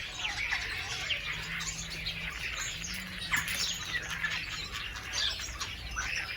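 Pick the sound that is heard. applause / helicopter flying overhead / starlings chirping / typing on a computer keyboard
starlings chirping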